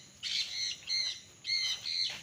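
Birds call on a farm in Liliw, Laguna, among avocado, rambutan, mango and coconut trees, in four short bursts of high, squawky chirps over about two seconds, fairly faint with no talking.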